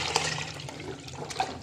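Yakhni broth pours into frying paye masala for Lahore-style bong paye, a close, continuous splashing wash with a few brief sizzling spikes and no speech.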